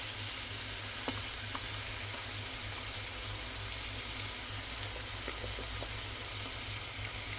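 Chicken and rice cooking together in one pot give off a steady, soft sizzle with a few faint clicks and pops scattered through. No voices are heard.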